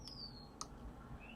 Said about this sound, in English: If you can hear birds singing in the background, so can I.